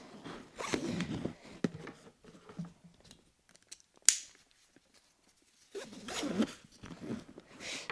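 Zipper closing a toiletry bag up close, heard as short rasping pulls in two bursts separated by near silence, with a sharp click between them and soft handling noise around them.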